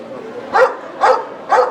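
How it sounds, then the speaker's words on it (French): An Australian Shepherd at an animal show gives three short, evenly spaced barks, close and moderately loud against a quiet indoor background. "C'est berger australien."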